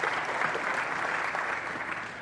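Sustained, even applause from the audience at South Africa's election results announcement by the electoral commission, a dense wash of many hands clapping at steady volume throughout.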